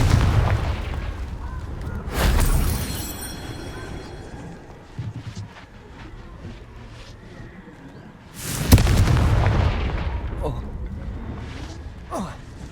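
A Confringo fire spell in Hogwarts Legacy bursts twice as booming blasts, several seconds apart, over ongoing game sound, with a voice calling out spells.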